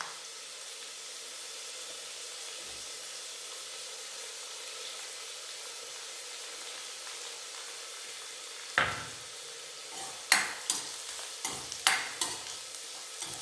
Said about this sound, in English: This also is cooking well in the sesame oil